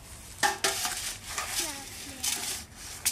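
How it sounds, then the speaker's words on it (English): Children stirring a pretend cauldron concoction from a play kit, with quick clinks and scrapes of a utensil against a bowl in short uneven bursts, close and fairly quiet. "Finley, are you going to give it another stir?"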